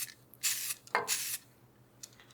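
Two short hissing bursts of spray lacquer misted onto a turned wooden block head, with a fainter spritz near the end, close and fairly quiet against a low background hum.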